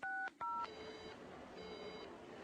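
Two quick mobile phone keypad tones beep in succession, followed by softer repeating tones in a quiet room, in a Shin Chan cartoon.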